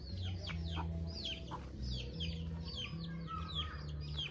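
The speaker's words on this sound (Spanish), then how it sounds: "Las crianzas de gallina." Chickens in a backyard poultry yard cluck repeatedly, several birds nearby calling in overlapping bursts over a steady low hum, with other birds chirping faintly behind.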